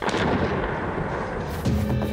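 A controlled landmine detonation during mine clearance work in Aghdam: a loud, sustained rumbling blast fills the whole stretch, with a second surge near the end and no voices.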